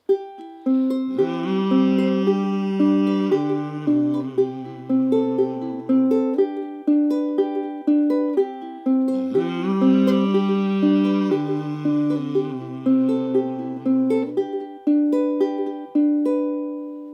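Ukulele fingerpicks the chords of a song in a steady 4-2-3-1 pattern, bright plucked notes rolling evenly through the progression twice, with no talking.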